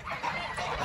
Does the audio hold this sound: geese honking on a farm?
yes